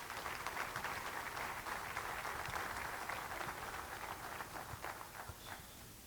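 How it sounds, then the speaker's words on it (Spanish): Sustained applause from a large audience at a national peace dialogue panel in Mexico, heard at a moderate distance as a steady wash of many hands clapping that thins slightly toward the end. "Démosle un fuerte aplauso"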